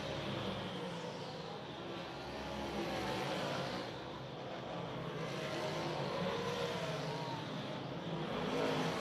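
Modified race cars running hot laps at All-Tech Raceway, a steady, broad engine roar from several cars that swells and fades gently as they circle the track at a distance, with no clear voices.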